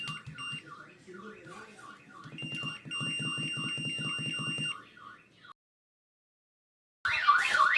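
A Vivint home security keypad alarm sounds with rapid repeating electronic beeps and tones, cuts to silence for a moment, then a brief burst of sound returns at the end.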